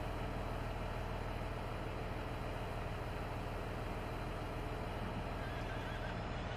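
Horses on a farm whinny and neigh while being given grain feed, heard over a steady, dense background of rumbling noise that fills the whole stretch without a break.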